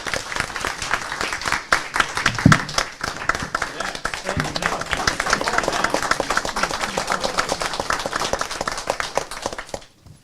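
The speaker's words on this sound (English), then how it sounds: "I think they owe a big round of applause" Audience at a school district board meeting giving a round of applause, many individual hand claps forming a close, lively rattle that runs steadily for about ten seconds before stopping abruptly.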